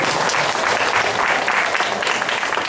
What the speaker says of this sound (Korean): 그분들을 위해서 한번 박수 좀